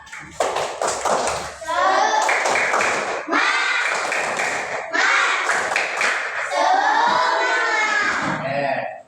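A school class doing rhythmic 'tepuk semangat' clapping, bursts of patterned claps and taps alternating with children chanting and shouting together in a lively, loud room.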